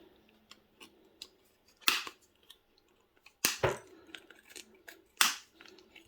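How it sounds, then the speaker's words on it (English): Wire is cut free from an amplifier circuit board in several sharp snips, three loud crisp cuts among softer clicks, close up and otherwise quiet. "I'm just going to snip the rest of this wire off here so that we've freed from the board"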